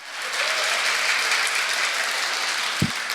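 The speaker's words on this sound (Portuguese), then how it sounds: "Eu queria que você aplaudisse mais forte." Church congregation applauding loudly, a sustained even roar of many hands heard from some distance, with one brief knock near the end.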